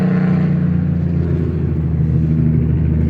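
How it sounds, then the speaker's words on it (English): Heavy trucks rumble past at close range, a loud continuous engine roar with deep low-end drone that stays steady for about three seconds, without speech. "can you hear these trucks?"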